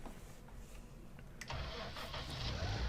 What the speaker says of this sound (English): So you go to start the tractor.